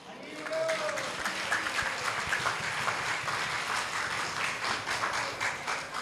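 Audience clapping during a kirtan, a dense, steady patter of many hands that stays level throughout with no clear rhythm and a faint background murmur.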